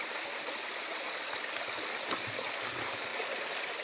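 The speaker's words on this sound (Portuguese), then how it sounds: "E aqui tem um regatinho. Tá vendo? Corre essa água aqui." A small stream of water running across a rural plot of land, a steady, soft, continuous rushing and trickling close by, with no talking.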